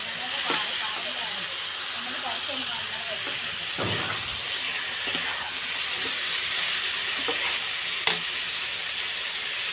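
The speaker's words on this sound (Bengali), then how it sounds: "টমেটো, পেঁয়াজ, কাঁচা লঙ্কা এগুলো কিন্তু সব ভাজা হয়ে গেছে।" Tomato, onion and green chili frying with bottle gourd in a pan, a faint, steady hiss of sizzling with a few scattered clicks and taps over the whole stretch.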